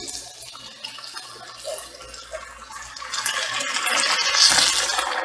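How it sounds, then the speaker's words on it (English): Water pours from a container into a thick cream of mushroom sauce in a pan, a splashing, trickling stream that starts soft and grows louder toward the end, with no talking over it. "I'm going to add some water as well because it's pretty thick."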